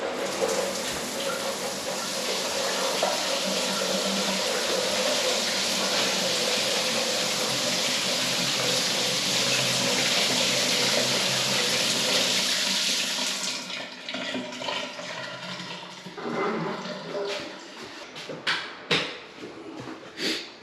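Water gushing from a big oversized shower head in a barndominium build, a loud, steady rushing spray that cuts off about two-thirds through, leaving scattered drips and small knocks.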